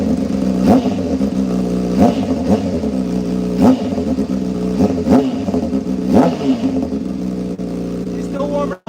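A motorcycle engine that is still warming up is revved repeatedly, loud and close, each rev rising and falling in a steady rhythm of about six or seven pulls over a rumbling idle.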